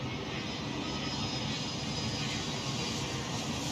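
Aircraft taxiing at an airport in the game Airport CEO, a constant even jet engine whine and rumble holding steady without breaks.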